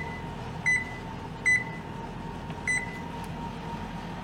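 Three short electronic beeps from an oven control panel as its temperature is lowered toward 325, spaced about a second apart over a steady hum, close and clear.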